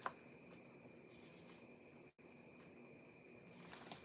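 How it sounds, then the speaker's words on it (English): Crickets chirp steadily through an open window of a cottage, a continuous high-pitched trill that stays even and moderately faint, broken only by a brief dropout near the middle. "you hear the crickets?"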